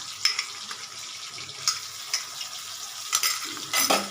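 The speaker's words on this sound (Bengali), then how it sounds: "এটা একটু ভেজে নিই হালকা কাঁচা গন্ধটা চলে যাবে" Onion frying in a pan for a spicy tilapia curry, a soft steady sizzle with occasional scrapes and stirring clatters, close and alone without talk.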